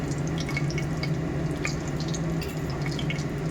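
Cooking oil poured into a pan for a tempering of cumin ahead of a potato, brinjal and tomato curry, a steady close liquid pour with faint trickles and drips over a constant low hum.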